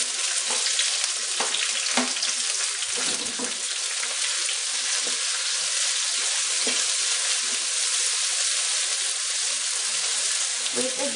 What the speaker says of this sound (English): The pepper is now ready to be added on the pan.